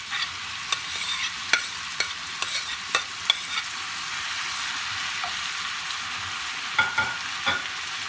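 Ground venison sizzles in a hot pan, a steady faint frying hiss broken by sharp scraping and stirring clicks from a utensil, close and quiet with no talking.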